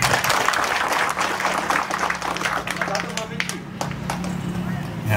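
A crowd at a political party inauguration ceremony in Indonesia claps loudly and steadily, dense close applause with a faint hum running underneath.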